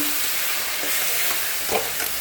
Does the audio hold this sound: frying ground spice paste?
yes